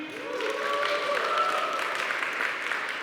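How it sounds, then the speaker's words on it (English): A conference keynote audience claps, whoops and stomps together on cue, a dense burst of applause with rising cheers that stays loud and steady throughout. "you're going to clap and woo and stomp at the same time."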